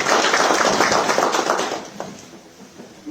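An audience at a tobacco business conference in a hotel hall in Harare applauds steadily. The clapping is dense and fairly loud, then fades out after about two seconds.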